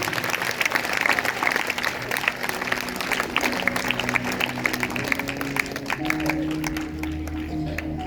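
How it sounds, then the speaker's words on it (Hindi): A church congregation at a Sunday service applauds loudly, with dense, rapid clapping lasting about eight seconds and a faint sustained musical tone underneath. "जोरदार तालियां बजाएंगे, जोरदार।"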